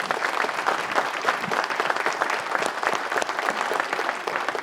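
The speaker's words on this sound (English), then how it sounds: "Can we have a round of applause for our panel, please?" A crowd at a lumber association regional meeting applauds a panel of speakers, with many hands clapping in a full, steady burst that stays strong from start to finish.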